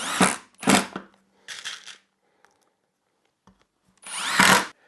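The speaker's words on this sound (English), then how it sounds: "I'm just going to take a second and drive some screws through all of this" A power drill drives screws into a wooden drying rack jig in three short, loud whirring bursts near the start, then a pause with faint handling noises before a final long burst.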